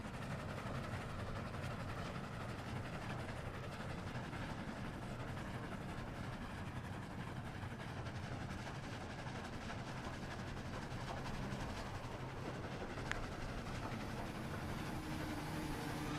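A train rolls steadily along its track in a survival video game, a continuous mechanical rumble with faint rhythmic clatter, fairly quiet and unbroken, with no talking.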